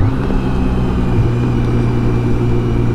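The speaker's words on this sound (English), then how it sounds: "Then come down the gears very quickly." A BMW K1600 GTL motorcycle engine drops quickly through the gears, its loud, steady drone shifting pitch in short steps over rushing wind noise.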